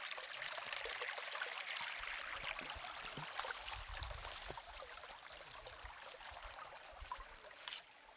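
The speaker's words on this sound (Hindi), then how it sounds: "यह पानी कुएं में से निकल कर आ रहा है" Water running out of a well in a steady, continuous trickling flow, fairly close and even in level throughout with no talk.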